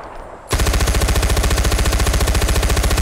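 Rapid, evenly spaced machine gun bursts erupt abruptly after a brief quiet moment in the video game Far Cry 4, loud and rhythmic with a steady pulsing firing pattern and no speech.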